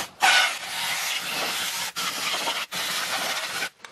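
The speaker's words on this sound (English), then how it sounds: "if you use something like this and spray it upside down, it acts like dry ice" An aerosol can sprayed upside down onto sticky residue to freeze it, giving a close, steady hiss in three long bursts separated by brief pauses.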